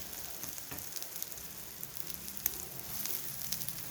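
Chicken resha kebabs fry in a pan with a steady, soft sizzle of hot oil. Occasional small pops and crackles rise above the quiet, continuous hiss.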